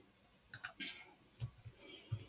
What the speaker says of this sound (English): I'll click on play